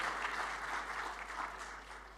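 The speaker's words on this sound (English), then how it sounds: "please give a big round of applause to our dirigent here" Steady applause from a conference audience, a dense even patter of many hands clapping without pause and fading only slightly toward the end.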